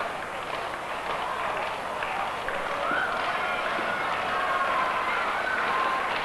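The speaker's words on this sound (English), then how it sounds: "Crowd getting into it here in Burlington." Crowd noise at a live independent wrestling show in Burlington, a steady broad roar of cheering spectators that swells slightly toward the end, with no clear talk on top.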